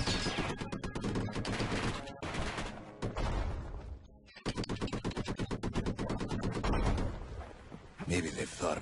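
Mortar shells fire in the video game Bastion as a dense run of rapid, loud blasts and bursts with a short pause in the middle. Speech can also be heard.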